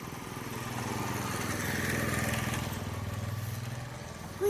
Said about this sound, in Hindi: आगे बाइक आ रही है।